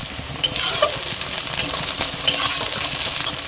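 Chopped onions, bay leaf, whole garam masala, cumin and split green chillies fry in hot oil, giving a steady, close sizzle with occasional stirring clatter.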